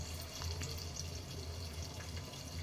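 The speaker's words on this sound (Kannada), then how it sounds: "ಹುಳಿ ಮತ್ತು ಉಪ್ಪಲ್ಲಿ ನೆನೆಸಿದಂಥ ಮೀನನ್ನ ಹಾಕ್ತಿದ್ದೀನಿ" Fish soaked in tamarind and salt goes into boiling sambar, giving a steady watery bubbling and churning over a low hum, continuous and moderately quiet, with no talking.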